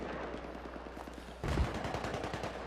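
Rapid automatic assault rifle fire in the shooter Battlefield 3 rattles in quick, even bursts and grows heavier and louder partway through, with no talking.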